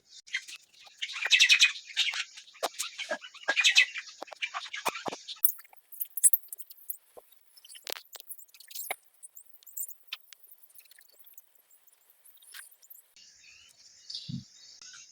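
Small birds perched on a plant chirping and tweeting close by, rapid high twittering bursts at first, then sparse sharp chirps and clicks spread over the rest, with no talk.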